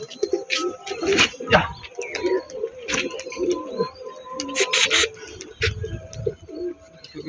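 Domestic pigeons, including a young home-raised bird, coo and flutter as they are let go to fly, with repeated soft coos and sharp bursts of wing claps and chirps nearby.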